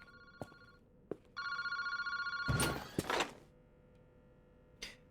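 In the video game Paranormasight, a phone booth telephone at Kinshibari Park rings with a bright electronic trill, joined by brief thuds and a louder clunk partway through, in an otherwise quiet scene.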